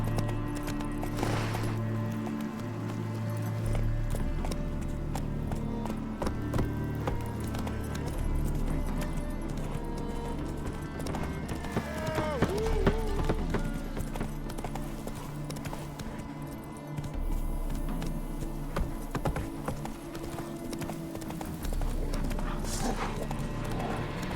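Horse hooves clip-clopping steadily on city streets in The Witcher 3 video game, heard close and continuous over a busy background of town ambience and music.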